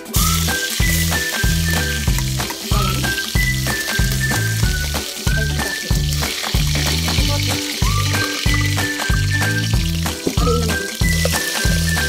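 Chopped onions sizzle in hot oil in a pan for pancit miki noodle soup, a steady loud frying crackle with repeated rhythmic clinks of a utensil throughout, no talking.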